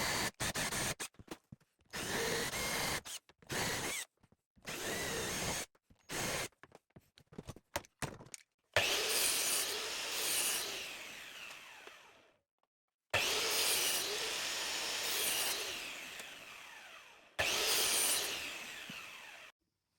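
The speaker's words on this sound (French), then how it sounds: "je vais pré-percer avec un forêt à fraiser l'ensemble des tasseaux" A power drill with a countersink bit bores into wooden battens, loud and near, starting with short stuttering trigger bursts and then settling into several long whining runs separated by brief pauses.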